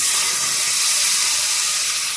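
Boiled, grated tomato goes into hot oil with fried chili and garlic, giving a loud, steady sizzle and hiss that holds close and constant.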